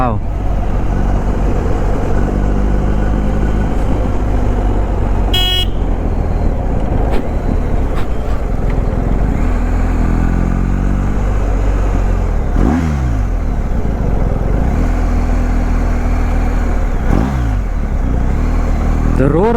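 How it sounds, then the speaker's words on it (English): A 2022 BMW R 1250 GS Rallye boxer engine roars loudly and close, revving up in repeated surges with rising pitch, its throttle blips sharp over a constant heavy rumble. "The roar of the Boxer engine."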